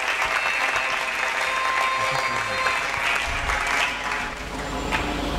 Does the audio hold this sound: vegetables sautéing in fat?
no